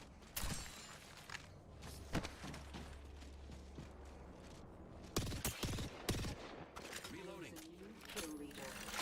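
Rapid bursts of gunfire in an online shooter match, loud bursty volleys repeating over a constant game background, with a voice talking over part of it.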